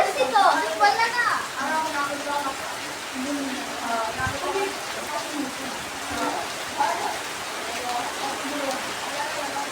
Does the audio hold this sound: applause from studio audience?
no